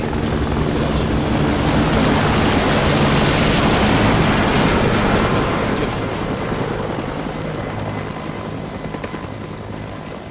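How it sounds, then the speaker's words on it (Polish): Helicopters approaching in the video game Sniper Ghost Warrior 3, a loud, continuous thudding rotor roar that swells over the first few seconds and then slowly fades, with no talking. "Śmigłowce? No, chyba są coraz bliżej."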